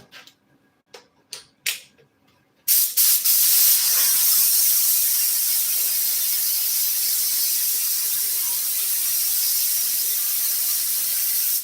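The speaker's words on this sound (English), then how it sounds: "Spray the glue on there, let it be sitting for just a minute." A steady, loud hiss of spray glue being applied to an F-100 truck seat runs for several seconds after a few short clicks and taps, with no talk over it.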